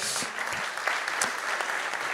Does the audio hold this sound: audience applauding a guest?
yes